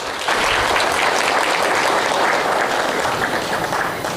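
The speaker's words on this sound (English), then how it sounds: "Can you please clap for yourselves?" An audience at a town hall gathering in Free State Province claps for itself, a loud, dense burst of applause that starts abruptly and holds steady for about four seconds before easing slightly.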